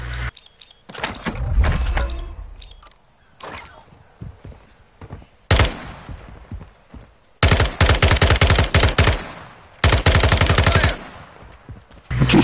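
Close automatic gunfire in Warzone, with several loud rapid bursts of tightly spaced shots separated by quieter moments of footsteps and thuds.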